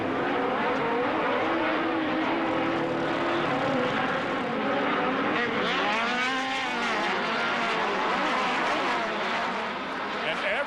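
A field of 22 Pro Buggy race cars at Las Vegas Speedway in the 2010 L.O.O.R.S. round 6 roars steadily as the race starts. The loud, continuous engine drone shifts in pitch as cars pass, with a commentator talking over it.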